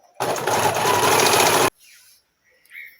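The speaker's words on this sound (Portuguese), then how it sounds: "eu acabei de costurar a cintura" A sewing machine stitches the waistband of a children's skirt made of chita cotton fabric, running in one loud, steady burst for about a second and a half before stopping into near silence.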